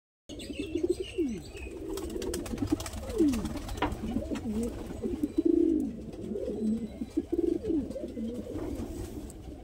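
Madrasi pigeons coo nearby in a loft, with overlapping low, rolling calls and some faint chirps and rustling throughout.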